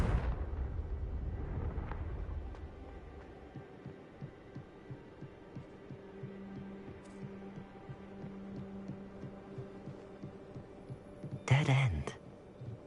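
The Confringo fire explosion spell in Hogwarts Legacy lands with a deep, heavy boom that fades over about two seconds, followed by a low ambient hum and a brief sharp burst near the end.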